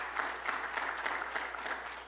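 A church congregation at a Sunday service claps together in a dense, even patter that holds steady from start to finish, moderately loud in the room.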